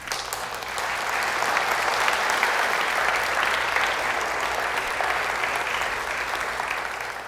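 Sustained audience applause welcoming lecturer Alister McGrath before a lecture, a dense even clapping from a large crowd that swells quickly and holds steady for several seconds.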